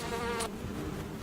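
A female bee hawk moth inside a beehive whirs its wings in a steady insect drone, close and continuous, with a brief brighter hiss partway through.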